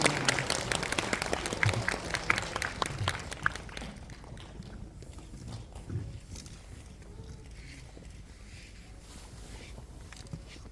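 An audience at a special film screening event claps to welcome a guest, loud dense applause that fades over a few seconds into scattered faint claps.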